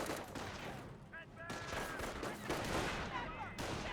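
Rifle and machine-gun fire in a World War II real-time strategy battle in Company of Heroes, US riflemen against Wehrmacht, a dense continuous clatter of shots and bursts filling the whole stretch, with faint background voices.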